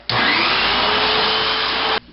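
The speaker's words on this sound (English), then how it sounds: "This is a great time to vacuum out lint that builds up." A vacuum cleaner roars steadily for about two seconds, loud and close, sucking lint from a clothes dryer, then cuts off abruptly.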